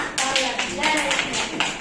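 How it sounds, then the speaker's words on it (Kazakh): Children clap their hands together in a classroom, a quick run of evenly spaced claps in a steady rhythm mixed with voices. "Қане шапалақ ұрамыз"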